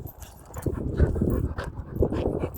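A dog close by pants and lets out soft whimpers and eager whines, its breathing and restless movement forming an uneven, continuous run of sound.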